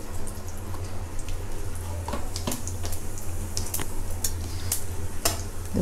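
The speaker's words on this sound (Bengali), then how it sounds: "ফোড়নে আমি দুটো শুকনো লঙ্কা, দুটো তেজপাতা, একটু গোটা জিরে দিয়ে দেব।" Dried red chillies, bay leaves and whole cumin seeds fry in hot oil, a continuous soft sizzle broken by sharp clicks and scrapes of a spoon stirring the pan.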